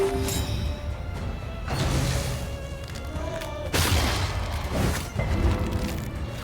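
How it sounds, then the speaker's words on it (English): Booming detonations in the video game Darkest Dungeon 2, two heavy blasts with crashing tails a couple of seconds apart over a low, rumbling game ambience. "And we're kind of forced to detonate this."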